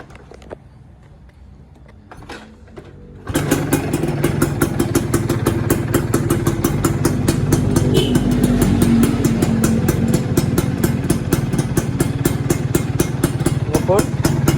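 A Yamaha F1ZR two-stroke motorcycle starts after a few seconds of quiet with faint voices, then runs steadily at close range with a buzzing, rattly idle and small revs. A voice is heard near the start.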